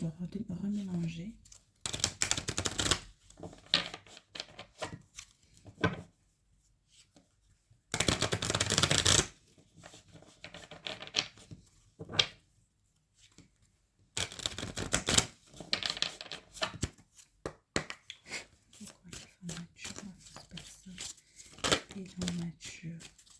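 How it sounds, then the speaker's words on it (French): Tarot cards being reshuffled by hand in bursts of crisp riffling and rustling, several separate rounds with short pauses between them, close up and moderately loud, with a voice speaking in French between the shuffles. "Je sais pas pourquoi, mais je dois remélanger"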